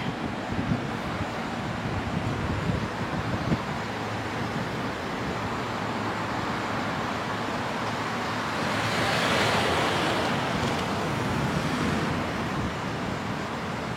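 Surf rolls onto a beach by a walk-on access near the Hawaiian Inn, a steady broad wash of waves with wind and faint road traffic behind it, swelling briefly louder midway.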